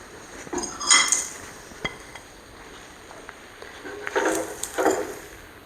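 Cooked bread being plated brings a few sharp clinks and clatters of dishes and cutlery, in two short bursts separated by a quiet pause, close and fairly loud.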